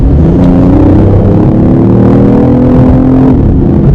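BMW i8 plug-in hybrid sports car with a centrally mounted fuel engine, revving loud and close in a steady, continuous rumble with rising and falling harmonic tones and no talk.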